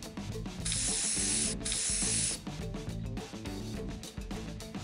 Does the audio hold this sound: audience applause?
no